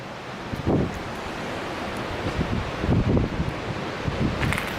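Steady roar of a waterfall at High Falls near Brevard, NC, just beyond a covered bridge about 50 feet away, a continuous broadband rush with gusty swells and no voices.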